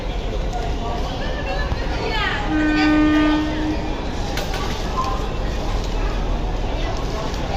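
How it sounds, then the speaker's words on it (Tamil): A train horn blares in a sustained tone over constant rumbling of rolling rail cars, with a brief whistle-like sweep before it. "வரான் பாருங்கள் ஹார்ன் எப்படி அடிக்கிறான்."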